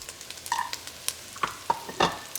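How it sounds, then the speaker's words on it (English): Mushrooms and onion sautéing in rendered bacon fat in a pot, a quiet sizzle broken by a few sharp clinks and scrapes of stirring. "We're going to saute it for 5 minutes."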